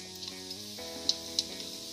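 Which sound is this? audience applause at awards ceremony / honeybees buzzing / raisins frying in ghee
raisins frying in ghee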